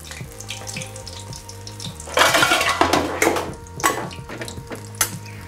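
Metal frying pans clatter and clank in a busy burst with water splashing and eggplant sizzling mixed in during Chinese-style cooking, loud and close, then a few lighter knocks.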